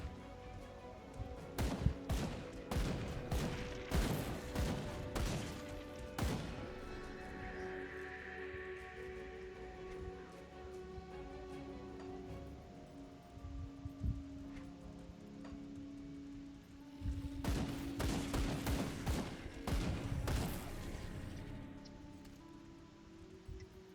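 Rifle gunfire in the action role-playing game Grim Dawn, heard as two clusters of rapid, sharp shots separated by a quieter stretch, fairly soft overall with faint background ambience.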